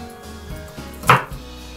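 A single knife chop through nuts (peanuts, cranberries and pumpkin seeds) on a board for sugar-free, flourless oat cookies: one sharp, close thunk with a faint softer knock after it, set against quiet surroundings.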